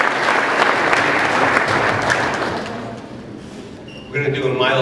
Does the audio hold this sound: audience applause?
yes